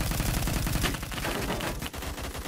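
Rapid automatic gunfire fills a Phantom Forces video game match, with dense overlapping bursts and shots, loud and continuous, with no voices over it.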